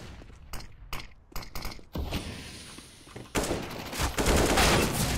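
CS:GO gunfire in a competitive match: a run of sharp shots and bursts early on, then a longer loud stretch of sustained firing and clatter, close and dense.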